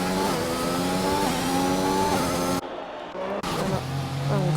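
A McLaren Formula 1 car's engine screams in a racing video game during an esports race in Singapore, with sustained high-revving whine and gear shifts, briefly dropping out before resuming, under commentary.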